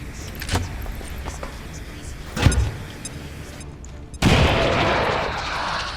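A frag grenade tossed in the XCOM Long War of the Chosen strategy game, marked by a couple of sharp metallic clicks and a thud, followed by a sudden loud explosive roar that lingers to the end.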